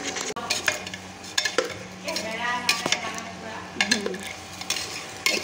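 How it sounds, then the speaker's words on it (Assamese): Rice being stirred in hot ghee with fried cashews and raisins, a spoon scraping and clinking against the pan in repeated strokes over a soft sizzle, close and fairly loud with no talk. "এইফালে ধুনীয়াকৈ চাউলখিনি মিক্স কৰি দিছোঁ এয়া ঘিখিনিৰ লগত"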